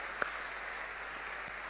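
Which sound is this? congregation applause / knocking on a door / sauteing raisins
congregation applause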